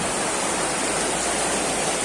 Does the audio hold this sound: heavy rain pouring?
yes